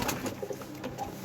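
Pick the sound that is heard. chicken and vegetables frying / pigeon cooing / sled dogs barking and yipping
pigeon cooing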